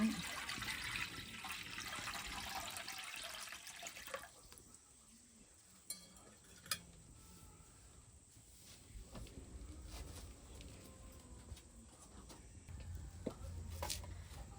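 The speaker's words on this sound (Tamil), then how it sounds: "தண்ணி ஊற்றிக்கலாம் முதல்ல." Water is poured into a pot to start Chettinad-style kambu koozh, a pearl millet porridge. A soft splashing stream is heard near the start, then quieter trickles and faint kitchen clatter.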